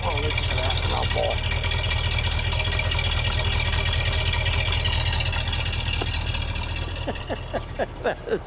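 Steady deep idle rumble from a 1973 Cadillac Eldorado convertible's engine, loud and near, with a voice breaking in near the end over the running engine.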